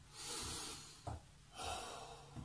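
Three big deep breaths taken during active rest in a children's and family workout: long, airy inhales and exhales in a slow rhythm, close and fairly soft, with no talking.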